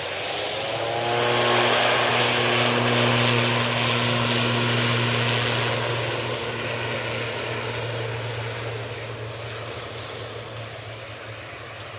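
An airliner departs Manchester Airport for the Isle of Man, a loud engine roar carrying steady low droning tones that swells early, then slowly fades as it climbs away.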